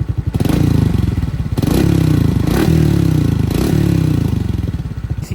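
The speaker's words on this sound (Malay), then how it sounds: "Exhaust dia ada bunyi tau." An Afaz Kencana Sport FI motorcycle idles and revs through its exhaust, which has a slight back-pressure note. Three or four loud, steady surges come close up, with nothing else heard.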